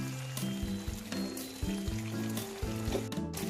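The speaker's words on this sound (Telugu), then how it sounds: "ఆనియన్ మిర్చి వేసుకోవాలి. కొంచెం సాల్ట్ వేసుకోవాలి." Onions, chillies and salt frying in a pan for a paneer curry give a low, steady sizzle under a faint tonal background, with a few soft stirring knocks and no talking.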